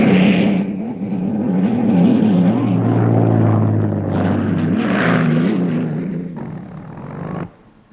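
A Rolls-Royce piston engine powers an unlimited hydroplane racing boat, giving a loud, continuous roar with a wavering pitch that cuts off abruptly near the end.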